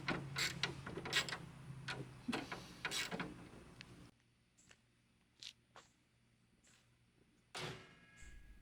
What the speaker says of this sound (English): Now I'm just finishing up the grille installation by fastening all the necessary bolts back on.